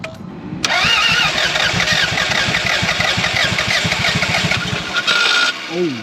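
A Toyota MR2 engine cranks hard and catches, then revs roughly and runs loudly for several seconds before cutting back, heard up close.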